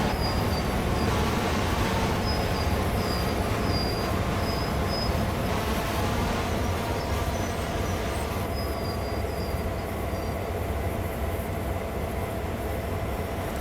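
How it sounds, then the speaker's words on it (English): A heavy freight train in the video game Train Sim World 2 rolling steadily with a constant rumbling roar, faint wheel squeals rising intermittently above the continuous low clatter. "with this much of a train, we have some inertia. We'll roll for a little ways."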